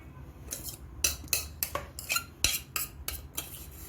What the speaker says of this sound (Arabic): خلاص كده بظهر بقى كده المعلقه، وابدا اضغط كده عشان ادخل الخضره فين